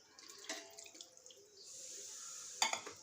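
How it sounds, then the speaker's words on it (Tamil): Saffron-infused milk poured into marinating chicken for Hyderabadi dum biryani, giving a soft, faint liquid pour with light splashes and a brief clink of a vessel near the end. "பால் சேர்த்துக்கலாம்."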